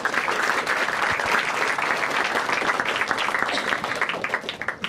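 A crowd at a Marathi stand-up comedy show gives dense, sustained applause that stays loud throughout and fades a little near the end.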